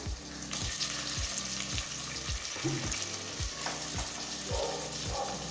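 Chicken pieces sizzle and fry in a pan for Ambur chicken biryani, with steady crackling and repeated stirring scrapes throughout, close and fairly loud with no voices.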